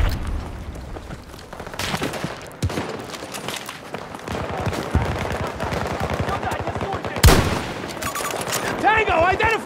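Battlefield 2042 team deathmatch firefight: scattered gunshots and bursts of automatic fire at varying distances, with a loud close crack near the end and voices shouting over the combat.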